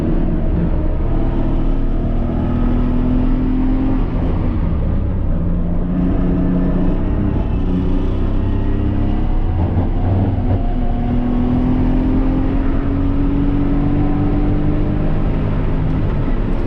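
BMW 323i with a 160hp engine driven flat out around the Thunder Hill three-mile racetrack, its loud, steady engine drone held at high revs throughout, with rising and falling tonal sweeps as it shifts and pulls through corners.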